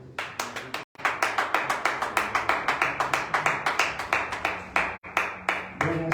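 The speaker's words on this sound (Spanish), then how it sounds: "Dale un fuerte aplauso a Cristo." Congregation in a Sunday evening church service clapping rhythmically in unison, loud steady beats with two brief pauses, close and full.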